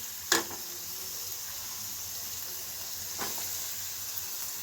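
Onion and garlic frying in a pan for Marathi-style bhindi bhaji, a steady soft sizzle running throughout with two brief clatters of stirring, no talk.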